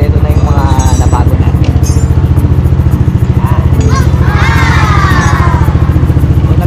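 Yamaha NMAX scooter engine running steadily at a close, loud idle with a regular pulsing beat, a person talking over it.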